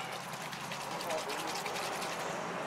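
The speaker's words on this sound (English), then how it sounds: "put the E85 in there, and now just gonna let it shake it up real good" E85 ethanol fuel and water are shaken together in a container, making a steady, faint sloshing and rushing of liquid that runs without a break.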